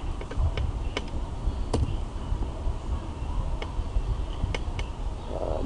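Someone types a command on a computer keyboard, a few sparse, crisp key clicks spaced irregularly over a steady background hiss.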